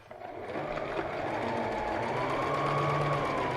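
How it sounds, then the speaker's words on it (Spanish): A sewing machine runs continuously while stitching around the edge of a fabric handbag piece, a steady close mechanical whir with a rapid even stitching rhythm from start to finish. "vamos a coser todo alrededor de la pieza y la vamos a voltear por la parte superior"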